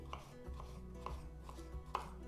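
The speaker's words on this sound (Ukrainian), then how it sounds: "Нарізаємо гірки" A knife chops arugula on a cutting board in several quick, evenly spaced strokes, close and fairly quiet, with no talk.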